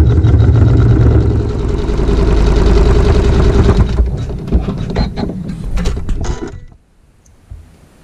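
A sewing machine runs steadily while stitching a tack down on fabric with regular thread, a loud continuous mechanical whir that gives way to a few short stops and clicks before falling quiet near the end.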